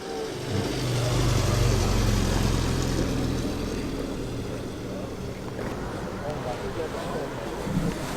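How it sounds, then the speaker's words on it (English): A bonny classic Mini arrives at a Crewe heritage car gathering, its engine note low and steady with a distinctive gear whine, close by amid wind rumble and faint background voices. "Distinctive gear whine."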